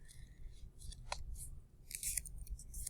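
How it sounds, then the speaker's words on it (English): A paper poem tower is folded and pushed in by hand, giving short, crisp crinkles and light rustles that come in brief separate bursts, close by and fairly quiet. "and I can fold it"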